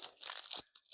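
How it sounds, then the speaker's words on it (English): Strip of used masking tape crumpled up by hand, a close, crackly crinkling and crunching lasting under a second, followed by a couple of small rustles. "Don't crumple it up like I just did."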